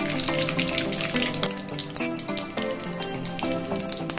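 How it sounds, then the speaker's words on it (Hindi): Mustard seeds hit hot oil in a kadai while making upma, giving a close, busy crackle and sizzle with sharp pops scattered through a steady frying hiss, no talk. "तेल गरम होने के बाद हम उसमें राई डालेंगे।"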